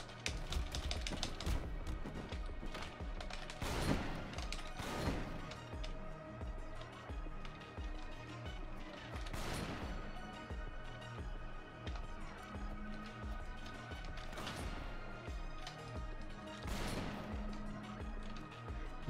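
Shotgun blasts in the game Mother Russia Bleeds: sharp, booming shots land one at a time at irregular intervals over a steady music backing.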